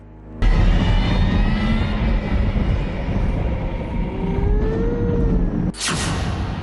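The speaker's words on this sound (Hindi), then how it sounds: "ये कोई ट्रक चल रहा है, ट्रक की साउंड।" A heavy truck rumbles past at night near an abandoned colonial-era building, a loud broadband roar with a rising and falling engine whine that holds steady for several seconds before a sharp burst of hiss near the end.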